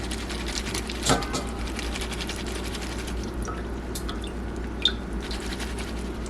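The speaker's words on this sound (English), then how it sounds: "it says to reserve the juice, so we're going to drain it to here" Pineapple juice drains from an opened can of pineapple, a steady wet trickle with a brief pour burst near the start and a faint clink later, heard alone with no talk.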